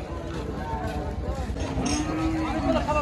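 Cattle at a busy livestock market in Rajshahi, Bangladesh, give out drawn-out, fairly close moos. They sound over steady crowd noise and some faint voices.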